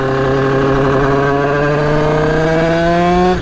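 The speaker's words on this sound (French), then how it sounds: "le moteur, on va le chauffer un petit peu" A 70cc 2Fast motorcycle engine warming up, held at a high, buzzing rev with strong harmonic whine, steady and loud and close, dropping slightly in pitch toward the end.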